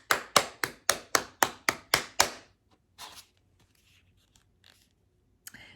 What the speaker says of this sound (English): Guys, round of fucking applause.